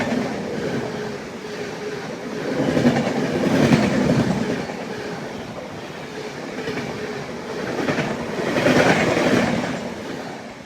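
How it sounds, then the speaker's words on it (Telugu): The Dakshin Superfast Express overtakes on a neighbouring track near Kazipet and Secunderabad, a long steady rumble with clickety-clack of wheels swelling twice as coaches rush past close by. "ఇప్పుడే మనల్ని ఓవర్టేక్ చేసుకుంటూ దక్షిణ సూపర్ ఫాస్ట్ ఎక్స్ప్రెస్ వెళ్ళిపోయింది కదా"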